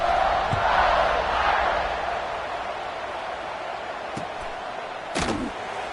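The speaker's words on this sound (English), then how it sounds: "this crowd is feeling themselves after that last drive" A football stadium crowd roars steadily at a Notre Dame versus Oklahoma game, a broad distant wash of cheering with a few sharp thumps.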